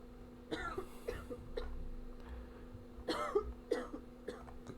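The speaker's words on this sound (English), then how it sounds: "You've still got a cough." Several dry coughs from a character in the zombie-checkpoint game Quarantine Zone: The Last, a quick pair followed by a louder cluster, heard over a steady low game hum.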